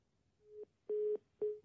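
Telephone busy tone after a call is hung up: three short, clean beeps at a single pitch, fairly quiet and alone on the line, with brief gaps between them.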